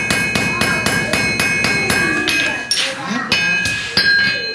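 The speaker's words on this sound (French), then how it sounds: "avec le marteau, je tape sur le bord du fer, en mettant le fer sur le bord d'un cube" Repeated hammer blows ring out on the edge of a piece of hot iron resting on the edge of a block, about eight sharp metallic strikes in a quick steady rhythm, close and loud, with people talking in the background during a Christmas fair at an old farmhouse.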